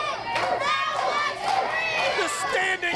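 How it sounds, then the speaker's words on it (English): A standing-room-only crowd at a Mid-Atlantic Territory wrestling match roars and shouts steadily for three seconds, a loud, dense wall of excited voices and cheers. "The standing room only crowd behind me."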